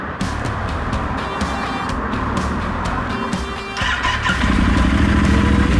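A motorcycle being started after roughly two days of repair work, its engine catching and running with a rough, steady mechanical roar that grows louder in the final seconds, with no voices.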